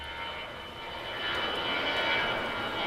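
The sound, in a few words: military aircraft flying over an air base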